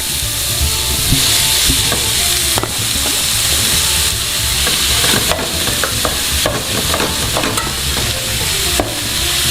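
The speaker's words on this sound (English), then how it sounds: "You're cooking the beef until it gets like a kind of dark brown." Ground beef frying and browning in a pan for lasagna, a loud, steady, close sizzle with crackling pops and occasional stirring knocks running throughout, no voices.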